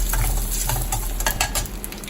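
Vadagam, dried red chillies and curry leaves frying in hot oil for tempering, a loud close sizzle with bursts of crackling and stirring scrapes.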